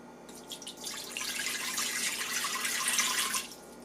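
Water, about 1.5 cups, poured into the inner pot of an Instant Pot over the rack, making a steady splashing gush that builds after a brief pause and stops near the end, fairly close and with no voices.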